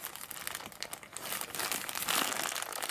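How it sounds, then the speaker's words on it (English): A silvery gray plastic package is torn open by hand without scissors, giving continuous close crinkling and crumpling that grows louder toward the end, with no one speaking. "let's open this up, and as you can see, it's in this kind of silvery gray packaging"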